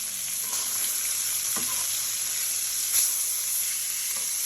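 A salmon fillet sizzles steadily in a hot pan after being flipped, a continuous close frying hiss with a couple of faint clicks and no talking.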